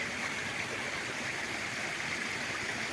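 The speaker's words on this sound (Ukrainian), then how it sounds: "А ось це йде потік, називається." A small mountain stream in the Carpathians rushes past nearby, giving a steady, dense wash of flowing water without pauses or voices.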